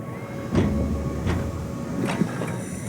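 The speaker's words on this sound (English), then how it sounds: "Not sure I trust the shuttle train anymore." A shuttle train in the game Soma runs with a steady, low mechanical rumble and a faint whine. Several soft clanks and thumps repeat at irregular intervals.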